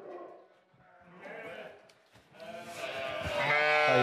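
A ewe bleats close by, a wavering, nasal call that grows louder and more insistent toward the end, with low scuffling and faint voices underneath.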